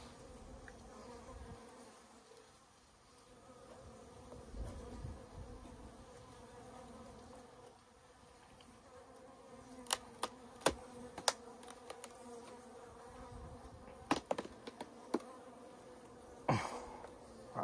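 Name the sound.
bees buzzing around a Warré beehive in the bee yard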